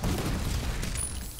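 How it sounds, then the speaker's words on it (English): Scripted explosions in the first-person shooter Ion Fury, a loud deep booming rumble that fills the short clip and slowly fades near the end. "foiled by scripted explosions"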